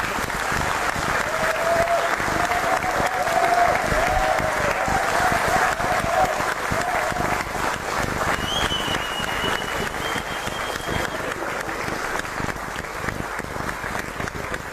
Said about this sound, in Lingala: Je vous demande d'applaudir très fort Lutuma Simaro Massia.